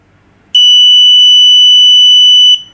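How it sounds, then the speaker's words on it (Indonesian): A loud, steady electronic alarm tone sounds for about two seconds, a single piercing high-pitched buzz that starts and stops abruptly against a quiet background. "kalau dia bunyi, berarti oke, buzzer kita berfungsi"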